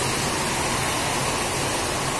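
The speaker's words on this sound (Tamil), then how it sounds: "இந்த பாருங்க தண்ணி கொட்டு அப்படியே கொட்டு கொட்டுன்னு கொட்டுது" Heavy rain pours down steadily during a storm, with trees swaying in strong wind nearby, giving a dense, continuous rushing hiss at moderate loudness with no talk over it.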